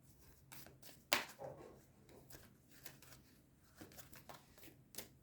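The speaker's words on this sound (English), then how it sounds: "So I'll give this a quick shuffle" Quick riffling and soft slaps of a deck of cards being shuffled, a few brisk bursts close by with a sharp snap near the start.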